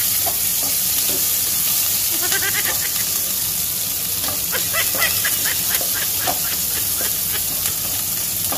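Onion, ginger and garlic sauté for chopsuey in a hot pan, a steady loud sizzle and hiss with scattered clinks and stirring scrapes throughout.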